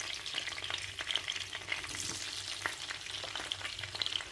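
Tomatoes fry in a pan for a tomato chutney, giving a faint, close, steady sizzle dotted with small crackles and pops, with no voices.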